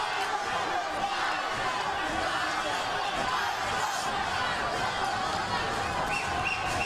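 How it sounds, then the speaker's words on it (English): A loud boxing crowd at Fantasy Springs cheers during the Francisco Vargas vs Brandon Bennett fight. The roar is constant and dense throughout, with commentators talking over it. "This is a very loud crowd"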